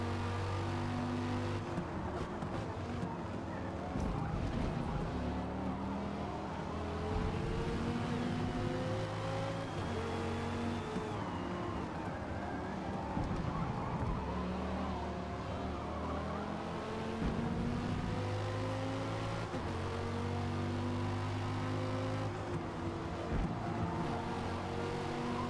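Dodge Viper race car engine in Forza, droning steadily at moderate level with shifting pitch as it accelerates and brakes through corners, other cars faintly audible around it.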